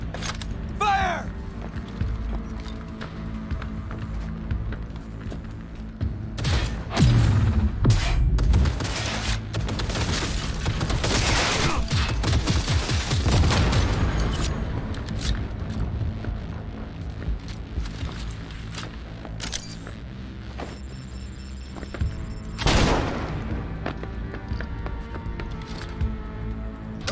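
Gunfire and booming explosions in Cyberpunk 2077, dense bursts of shots rising to a loud sustained barrage midway, then thinning to scattered blasts, with a voice shouting over the combat.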